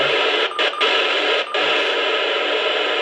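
A Standard Horizon HX300 handheld marine radio plays loudly, a steady dense hiss-like broadcast filling the whole stretch with a few brief dropouts near the start, close and unbroken, with no talk.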